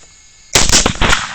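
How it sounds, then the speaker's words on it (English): A .243 Winchester rifle fired with 95-grain SST hand loads during a hog hunt: sudden loud near shots crack out after a quiet start, followed by a second report and echoing rumble. "Ben's going to be shooting his 243 Winchester with one of the SST 95 grain bullets that are hand loads."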